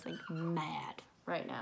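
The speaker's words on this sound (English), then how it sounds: "Sorry, that is my dog. I do not have a pig." A French bulldog's high, nasal whine rises briefly, mixed in with a person talking nearby.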